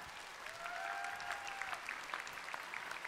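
Steady applause from a crowd at a talent show grand final, continuous and fairly distant, with a short whistle-like tone gliding through near the start.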